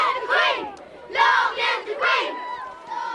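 A large crowd in Enniskillen, gathered for the Queen's walkabout on her Diamond Jubilee tour of Northern Ireland, cheers and shouts in loud surging bursts, with a voice heard briefly.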